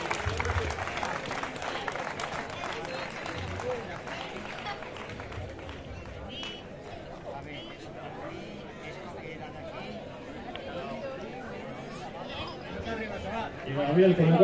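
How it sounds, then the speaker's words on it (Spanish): Spectators at a village road race, a Castilian league run in Monleras, clap for prize winners posing for photos, a modest scattered applause mixed with crowd chatter and voices, rising somewhat louder at the end. "Fuerte aplauso, posamos para la foto."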